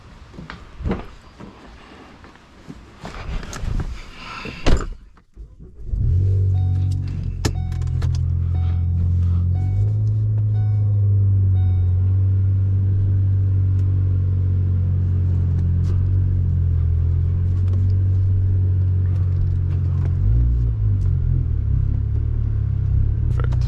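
A Ford Focus ST starts up and idles with a steady low engine rumble close by. Clatter and knocks come first, then a short pause, then the engine runs continuously for the rest of the clip.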